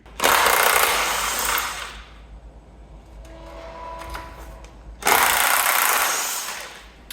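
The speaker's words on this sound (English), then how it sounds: "Just undoing the 4 13mm bolts for the anti-roll bar." Two bursts of a power tool whirring loudly as 13mm anti-roll bar bolts are undone, each lasting a couple of seconds and separated by a quieter stretch of faint clinks.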